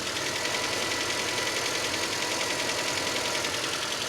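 A 1979 MGB engine fitted with a Weber carburetor idles steadily close by, a continuous, even mechanical drone with a faint rhythmic pulse and no talking.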